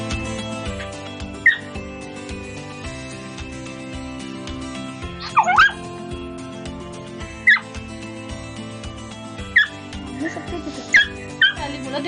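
A pet dog in a home kitchen while food is prepared lets out scattered short yips and whiny barks at irregular intervals, fairly close, over steady background music and occasional talking.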